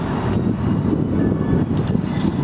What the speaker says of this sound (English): Good sounding pipes.